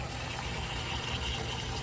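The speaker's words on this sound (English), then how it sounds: "So when we set it for ice, we should hear the water valve" A Hoshizaki ice machine with a no-ice fault has its water valve filling, a steady hissing rush of water with a low mechanical hum, constant and fairly quiet, with no voices.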